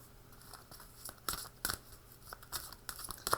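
A deck of archetype tarot cards is shuffled close by, faint and quiet, with soft riffling and sharp papery flicks and snaps coming in irregular bursts.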